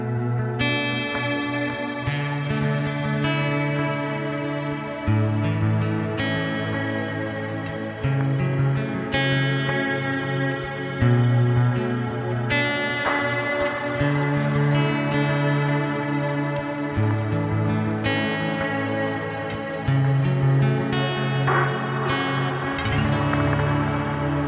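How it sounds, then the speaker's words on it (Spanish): Acoustic guitar played through a delay pedal, sustained chords with repeating echoes and a shimmering, chorus-like wash, continuous and fairly loud with no talk. "Voy a darle una ecualización al pedal de delay."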